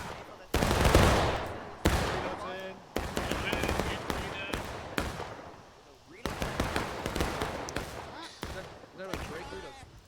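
Bursts of rapid gunfire from a multiplayer shooter game on the Garland's Stand map, loud and dense in long volleys with short gaps, mixed with a commentator talking over the action.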